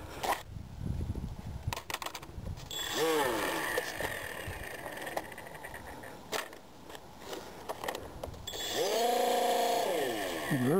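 GeeBee racer model airplane with its motor running rough, a wavering engine drone rising and falling in pitch throughout, with bursts of wind and handling noise and a strong whine near the end.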